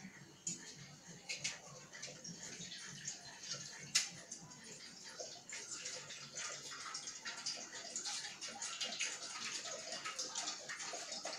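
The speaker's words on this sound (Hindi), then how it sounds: "पहले हम पानी डालते हैं।" Water is poured into a pot to make tea at home, a soft continuous splashing and trickling that runs steadily and faintly, with quiet clattering and some background voices.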